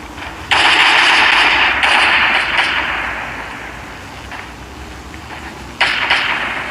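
Gunfire in the zombie defense video game Last Day on Earth: long, loud bursts of rapid automatic fire that fade off in the middle, then a fresh burst near the end.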